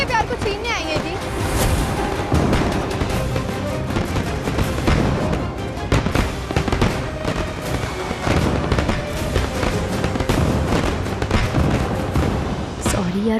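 Firecrackers burst in a dense, continuous barrage of loud pops and cracks, heavy and near, running throughout with voices talking underneath.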